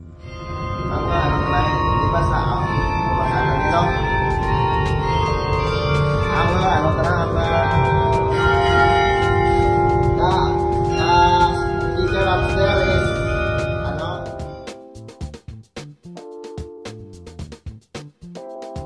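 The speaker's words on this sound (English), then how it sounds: "A carillon is a musical instrument of bells, typically housed in a purpose-built bell tower or belfry" Carillon of harmonically tuned bells ringing in a belfry tower, a loud sustained melody of overlapping bell tones that stops abruptly, leaving scattered ringing strikes and decaying resonance.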